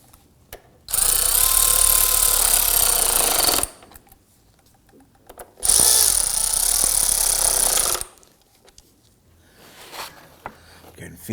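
Power tool snugging bolts during radiator installation on a 2003-2014 Volvo XC90 3.2L inline-six: two loud, steady bursts of a few seconds each, separated by quiet gaps, with faint clatter afterward.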